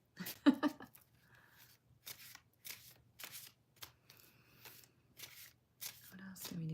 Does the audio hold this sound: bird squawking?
no